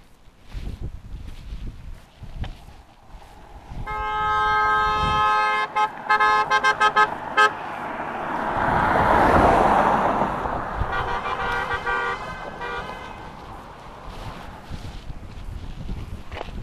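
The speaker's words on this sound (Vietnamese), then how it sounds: "Đi bóp còi in ỏi" Car horns toot again and again on a highway through the Di Linh, Lâm Đồng to Đắk Nông hills, with long sustained blasts and short bursts over steady road and engine noise.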